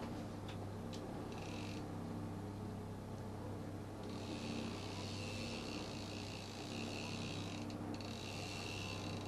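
A fishing reel with a line counter winds back trolling line, giving a steady mechanical whir with faint clicking and ratcheting, close and quiet, and no talking.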